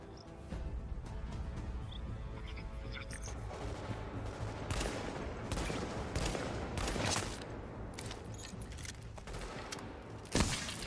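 Gunfire in The Division during a firefight: dense, continuous volleys of shots at mid distance, punctuated by louder nearby cracks, with one sharp report near the end.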